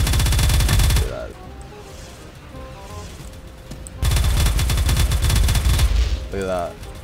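A rapid-fire spraying gun in the Roblox game Harbor Havoc lets off loud, dense bursts of automatic gunfire, one burst of about a second and a longer one of about two and a half seconds, separated by quieter game sounds.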